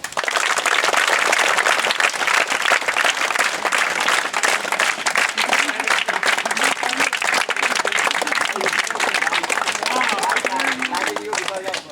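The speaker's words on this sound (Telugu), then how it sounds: "ఈ అన్నయ్యలందరికీ గట్టిగా చప్పట్లు." Audience applause: sustained, loud clapping from a crowd, dense and continuous throughout with some voices mixed in.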